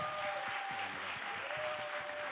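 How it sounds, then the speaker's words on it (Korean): A studio audience on a Korean talk show applauds, producing a steady, even wash of clapping that is fairly faint and distant throughout. "모든 사업이 무자본으로 가능하다라는 거죠. 박수 한번 주세요."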